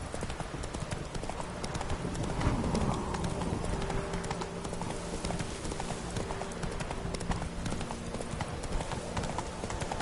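Horse hooves clip-clop steadily at a gallop in The Witcher 3 video game, a continuous rhythmic drumming that stays close and fairly loud over a busy game soundscape, with no talk.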